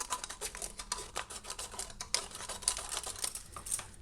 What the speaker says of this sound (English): And what you do is you just cut off the rim